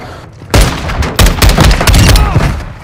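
Loud, close gunfire in Call of Duty: Modern Warfare II: a heavy blast followed by a string of rapid shots and impacts, clustered in quick bursts.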